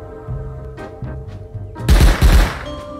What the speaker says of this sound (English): I assume that's a turret right there.